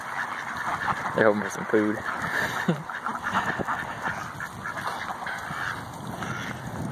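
Ducks outdoors in winter quack and honk, waiting for food beside a yard of pruned fruit trees. Several short calls come close together near the start, with someone talking over them.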